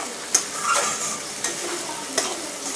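Paneer butter masala sizzles in a pan while it is stirred. A steady close hiss of frying carries a few distinct spoon scrapes spaced about a second apart.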